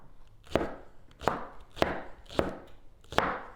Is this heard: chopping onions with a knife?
yes